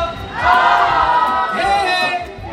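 A crowd at a baby shower shouting and cheering together on cue, a loud, sustained burst of many voices that rises and carries on.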